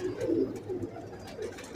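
Breeder pigeons coo softly in a low, murmuring rhythm, a couple of gentle swells close by against a quiet background.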